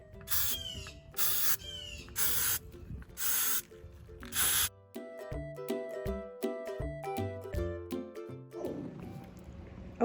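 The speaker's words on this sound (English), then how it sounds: "So hopefully this spray works pretty good." Several short hissing bursts of white spray paint at the start, each about half a second, followed by a stretch of tonal music with no spraying.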